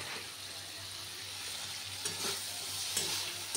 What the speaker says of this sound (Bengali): এই তরকারিটা ফুটতে থাকবে